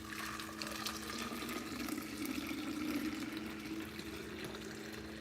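Steady stream of fresh juice pouring into a small carafe, a continuous liquid splash and fill heard alone for several seconds at close range.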